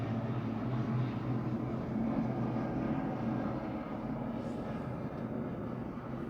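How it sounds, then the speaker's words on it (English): Helicopter flying overhead, a steady low rumbling drone that holds throughout and eases slightly toward the end, with no voices. "there's a helicopter above"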